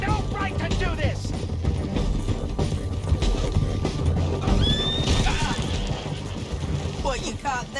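A horse neighs and whinnies repeatedly with clip-clopping hooves in the Western video game Red Dead Redemption II, busy and mid-distance amid mechanical clatter and background ambience, with people talking.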